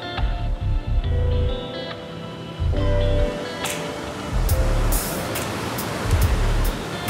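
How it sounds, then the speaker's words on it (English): Surf rolling onto Montezuma Beach in Costa Rica, a steady broadband wash of breaking waves with recurring low gusty rumbles, heard without any talking. "Look at this beach. It's called the Montezuma Beach."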